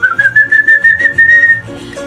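A person whistles imitating a Venezuelan folk legend, a sustained, slightly rising tone, close and loud, pulsing unevenly before it drops off into lower notes.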